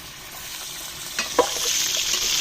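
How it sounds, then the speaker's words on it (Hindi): Beef pieces hit hot ghee in a pan, giving a soft steady sizzle with a couple of brief stirring clatters near the middle, close and moderately quiet, with no voices. "घी गर्म हो गया है तो सबसे पहले हम इसमें बीफ ऐड करेंगे।"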